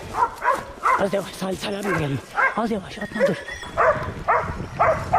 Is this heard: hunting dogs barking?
yes